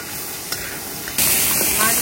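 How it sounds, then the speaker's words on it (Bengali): Fish frying in a pan seasoned with salt and turmeric, a steady hiss and sizzle that jumps suddenly louder and brighter partway through, continuing without a break. "মাছ ভাজা হয়ে গেছে।"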